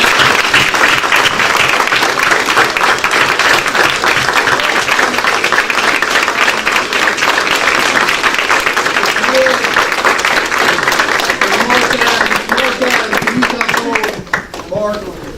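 At a Coffee County Board of Education meeting, a loud, sustained round of applause from the audience honors a group of staff and continues steadily for about fifteen seconds, with a few voices mixed in as it winds down.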